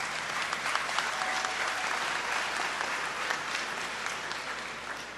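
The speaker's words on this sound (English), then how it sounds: "So give yourself a round of applause." Graduates and guests at a university commencement ceremony break into sustained applause, a dense, even roar of many hands clapping at once that holds steady for several seconds before easing slightly.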